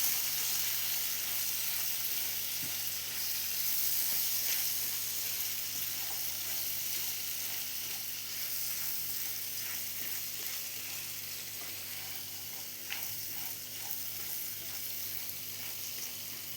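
Dates for a date pickle sizzle in a hot pan while being stirred, a soft continuous frying hiss with faint scraping, fairly quiet and steady throughout.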